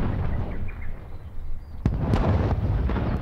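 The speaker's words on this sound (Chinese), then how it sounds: "你们听东边这个炮声可一直都没停过呀" Distant artillery cannon fire in a wartime drama rumbles as low, continuous booming, with a couple of sharper thuds standing out partway through and no talking.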